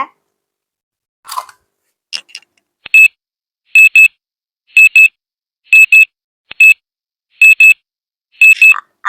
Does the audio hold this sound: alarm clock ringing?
yes